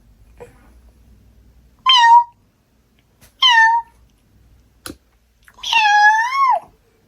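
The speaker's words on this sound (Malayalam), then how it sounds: "പൂച്ചക്കുട്ടി വന്നു" A kitten meows three times at home, each cry clear and close, with short gaps between, the last one long and drawn out, plus a few faint knocks and thumps in the quiet room and no talking.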